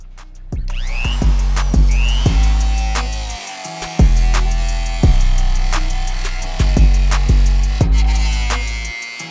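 Power tool cutting a seized eccentric bolt out of a suspension bushing on a Subaru WRX, loud repeated bursts that spin up and wind down with a harsh metallic whine, each burst cut off abruptly, no talking.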